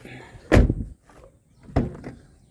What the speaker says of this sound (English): All right, it opens and closes as it should